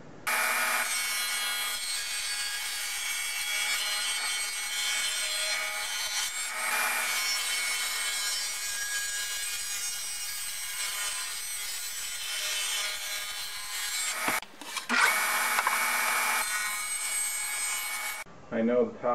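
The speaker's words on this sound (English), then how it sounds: "Now I'm going to cut a 30-degree bevel on the bottom of 3 sides of the bench top." A saw blade cuts a 30-degree bevel along the bottom edge of a 2x lumber bench top. Loud, continuous, close-up rasping runs for about fourteen seconds, breaks off briefly, then returns in a short final burst.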